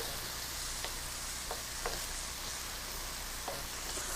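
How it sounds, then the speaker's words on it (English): Steady, soft sizzling of seafood stew with scallops, shrimp and tuna sautéing in a frying pan, a continuous crackle with a few faint clicks from stirring. "Now you saute this for about I would say 5 to 8 minutes."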